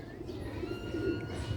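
A continuous low, burbling coo from nearby black-faced Sialkoti pigeons, steady in volume with slight swells, and no voices over it.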